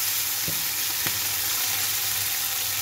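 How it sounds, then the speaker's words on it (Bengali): Small mola fish fry in hot oil with a dense, steady, close hiss and sizzle throughout, a couple of faint soft knocks near the start, and no voices. "ছোটো মাছ এরকম তেলে ভাজলে খুব ভালো লাগে খেতে"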